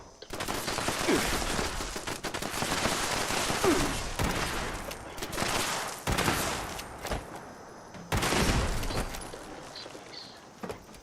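Rapid automated turret gunfire from Fallout 76, loud sustained bursts of machine-gun fire running nearly the whole time with brief gaps, alone without talk.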